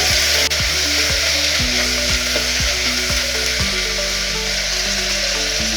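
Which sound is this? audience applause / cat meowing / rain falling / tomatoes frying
tomatoes frying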